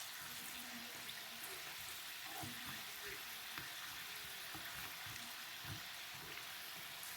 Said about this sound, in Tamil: இப்போ பொண்ணுறமாக பொறிஞ்சு வரும் பாருங்க